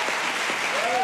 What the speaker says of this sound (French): je vous demande d'applaudir bien fort une des porte-paroles coordinatrices de l'association L'Auberge des Migrants à Calais, Flore Judet.